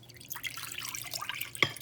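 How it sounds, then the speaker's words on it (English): Milk pours into a bowl in a home kitchen, a short, close, splashy run of liquid with a brief drip at the end. "first I'm going to Pour the milk into this bowl"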